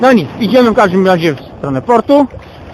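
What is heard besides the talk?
None of the usual background noises is heard.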